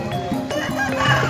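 A hen clucks in a short run of quick, nasal calls at a busy poultry market in Java, close and fairly loud over faint background chatter.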